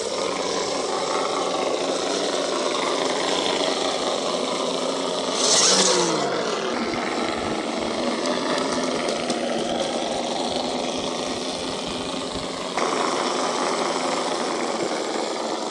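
An Axial XR10 RC rock crawler Jeep whines steadily with its electric motor as it crawls over rocks, with a continuous buzzing drone, a brief louder surge, and faint crunching from the tires.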